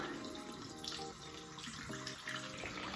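Tap water runs steadily into a bathroom sink while face cream is scrubbed off, a soft continuous splashing flow heard close up with no talking.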